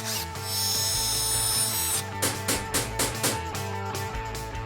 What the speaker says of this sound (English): I think we'll get the drill and the saw, and then we'll try and take this apart